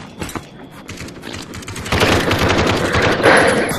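A gun fires in the VR shooter Aim XR, sending out sharp cracks in quick succession that grow louder and denser toward the end, with no voices.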